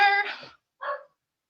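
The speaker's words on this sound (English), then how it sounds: "barking in the background" A dog barks twice in the background, a longer yelping bark and then a shorter one after a brief pause, moderately loud and with no talk over it.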